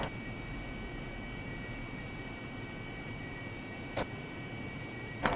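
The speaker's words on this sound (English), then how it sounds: "full afterburner" Jet aircraft engine roaring on full afterburner in a flight video game, a steady broadband rumble held throughout, with two brief clicks near the end.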